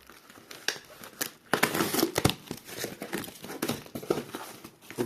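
Cellophane wrapping being torn and crinkled off a parcel holding a quartz Slava alarm clock, with a steady run of close, sharp crackles and crumpling bursts and no talking.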